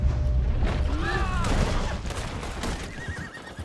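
A horse whinnies loudly in Red Dead Redemption 2, a rising and falling neigh up close, over pounding galloping hooves and a low rumbling background, with another short whinny near the end.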